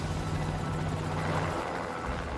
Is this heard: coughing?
no